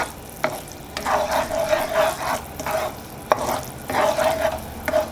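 Milk poured into hot browned caramel sizzles in a pan while being stirred, with repeated scraping strokes and bursts of bubbling at close range, no voices.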